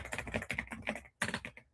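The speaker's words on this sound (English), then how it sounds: "I can't type and talk at the same time. Otherwise, I'll say what I'm typing or I'll type what I'm saying." Fast typing on a computer keyboard, a close, steady patter of keystrokes that stops briefly and then resumes in a second quick burst, with no voice.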